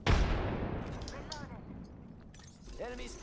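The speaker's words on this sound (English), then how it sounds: "They're trying to throw grenades at my location" A heavy grenade blast booms up close in a shooter video game, its rumble fading over a few seconds while players talk over it.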